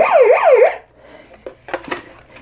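The siren of a Weather X WR383R AM/FM/weather radio wails, sweeping up and down rapidly for under a second, loud and close, then cuts off, followed by a few faint clicks and handling noises.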